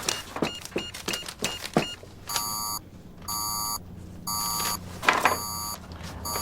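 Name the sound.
briefcase beeping alarm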